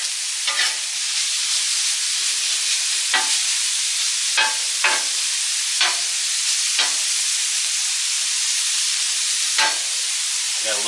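Meat sears loudly on a hot Blackstone 22-inch griddle plate, making a dense, steady sizzle that is broken now and then by brief scraping strokes.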